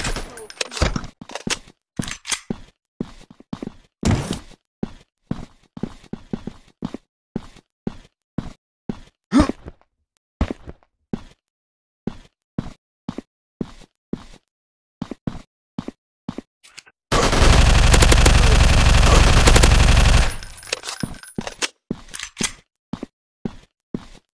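Gunfire in a mobile FPS shooting game: a long series of sharp, evenly spaced single shots, loud and close, broken midway by a few seconds of dense, continuous roaring noise.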